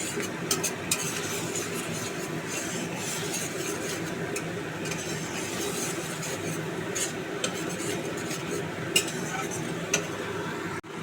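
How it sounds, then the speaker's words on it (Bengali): A spoon stirs mustard paste curry for hilsa fish in a pan, with a steady scraping, swishing texture and scattered light clinks of metal against the pan, close and continuous without talk. "জল দিয়ে দেবো এবার একটু নাড়াবো"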